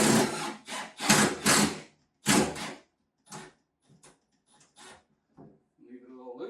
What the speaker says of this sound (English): so we're going to put one screw right here